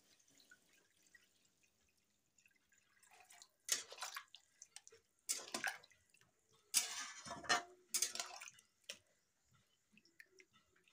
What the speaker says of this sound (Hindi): थोड़ा सा चला ली हूँ तो ग्रेवी के लिए पानी दे देती हूँ।